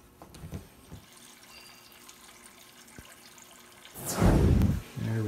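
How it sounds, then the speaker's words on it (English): Cold water pours into a wax melter to harden the wax, a loud gushing burst after several seconds of quiet clinks and handling, trailing off into a lighter trickle. "we're going to have to quicken this up with pouring cold water inside just to harden that wax"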